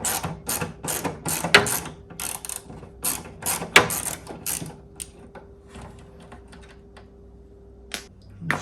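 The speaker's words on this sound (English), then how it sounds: "Now I'm going to take off all these 1/4 inch" Quick bursts of ratchet clicking as quarter-inch screws are backed out of a part on a Chevrolet Impala, repeated close-up runs of ticking pawl strokes that thin out into sparse clicks toward the end.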